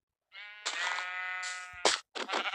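A sheep in the video game Minecraft bleats in a long, wavering cry followed by shorter bleats, clear and close with no talk.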